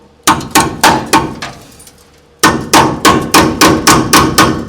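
Crescent wrench hammering on the steel body panel of a 1965 Ford Thunderbird convertible during rear torque box repair: a burst of four sharp metallic strikes, a pause, then a longer steady run of about nine close, loud clanks.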